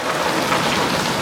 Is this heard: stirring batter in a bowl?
no